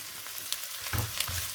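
Corned beef frying in a pan for meat pie filling, a soft sizzle with a couple of brief stirring scrapes, no talk.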